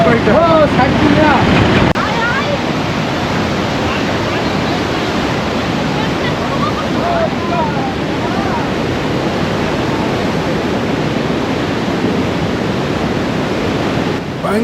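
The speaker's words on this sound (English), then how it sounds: "In what condition the Teesta river is flowing in a full way under the bridge" The Teesta river rushes in full flow beneath a broken wooden bridge in North Sikkim, a loud, constant roar of churning water with wind buffeting the microphone and voices faintly heard beneath.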